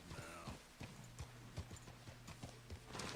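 Hooves of a Rose Grey Arabian horse in Red Dead clip-clop at a steady trot, with evenly spaced, close, crisp thuds over a busy outdoor background.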